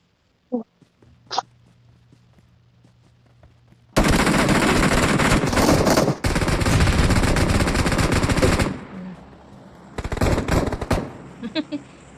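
Gunfire in the mobile battle-royale game PUBG Mobile: a few isolated shots at first, then long, loud sustained automatic bursts, a pause, and more rapid bursts near the end, with no talk over them.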